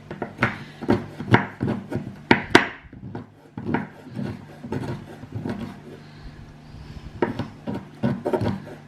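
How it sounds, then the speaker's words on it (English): Homemade hand soap being sliced, with a series of short scraping, rasping cuts in quick bursts, then a pause and more irregular cutting strokes, close and fairly loud. "Some more aesthetically pleasing soap cutting for people."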